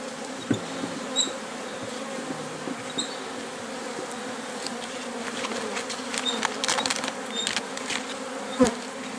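Wasps buzz around honey-filled beehive frames during a varroa mite treatment, a steady insect drone with several individuals passing close by, occasionally louder, with no talking.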